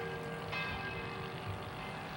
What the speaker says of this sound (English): The Bells of St. Anne's, a timeless song of praise to Father Brebeuf and his fellow Jesuits who were martyred nearby in the 1600s.